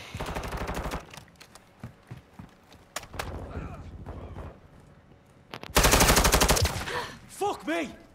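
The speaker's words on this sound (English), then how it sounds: "They shot me!" Bursts of automatic gunfire in Call of Duty: Modern Warfare II, loud rattling volleys in the first second, around three seconds and again near six seconds, with scattered shots and game sounds between; a voice speaks briefly.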